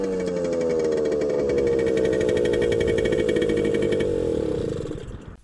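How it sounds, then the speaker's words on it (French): A small Suzuki 50 JR motorcycle engine revs high and buzzy close by, holding a loud stuttering drone that wavers in pitch before cutting off near the end. "La moto a tendance à brouter dans les hauts tours."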